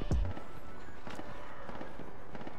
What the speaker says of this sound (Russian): Слышу, стреляют.